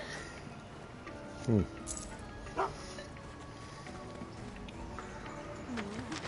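A dog in the video game Final Fantasy VII Rebirth gives a couple of short barks and a yip over game ambience and footsteps.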